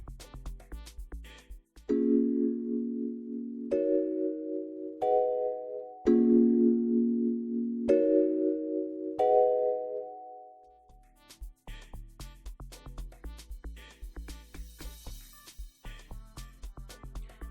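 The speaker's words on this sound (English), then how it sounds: "I ended up changing the piano and I used this custom patch from Omnisphere" A synthesized piano voice from a custom Omnisphere patch plays a slow sequence of sustained chords alone, then drops back under a busier amapiano beat with percussion.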